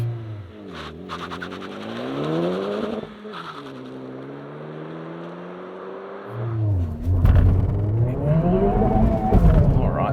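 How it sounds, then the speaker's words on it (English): A 2023 Honda Civic Type R launches hard with traction control off and the clutch slipped, the engine note rising and falling through revs, dipping at a gear change, then surging loudly again with tyre noise underneath. "Just gonna slip the clutch, traction is off."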